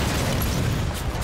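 Dense rumbling blasts from Halo 5 multiplayer, a loud sustained barrage of booms and bursts that blend into one roar for about a second.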